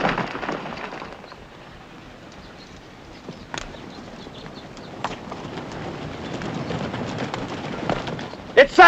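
Horses galloping in a western cavalry charge, a muffled rolling rumble of hooves under shouting voices, with a few sharp bangs near the end.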